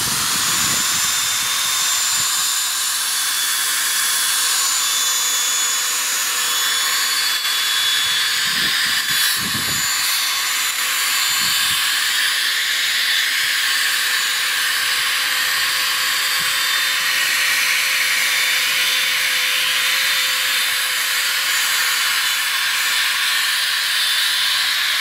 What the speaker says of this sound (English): so now we're going to wet sand the lenses